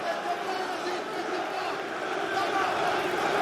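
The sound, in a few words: French crowd cheering for local fighter at MMA event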